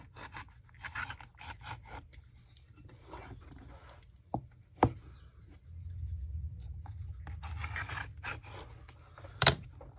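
A knife cutting a leather boot piece being converted from stitch-down to Goodyear welt construction: quiet scraping and rasping strokes with a few sharp clicks, close and faint, no voices.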